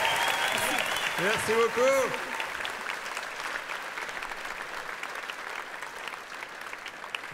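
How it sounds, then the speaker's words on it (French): Applause from a French comedy-evening audience fills the room steadily throughout, with someone speaking briefly over it near the start. "on peut applaudir bien fort"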